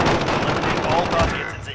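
Rapid automatic gunfire in the video game Call of Duty Warzone comes as loud, dense, continuous bursts that ease off slightly toward the end.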